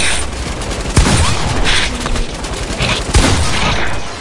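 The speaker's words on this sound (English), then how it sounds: "I'll minigun them up." A minigun roars continuously in Fortnite, a loud, dense stream of rapid shots with a couple of sharper impacts, running through the whole stretch.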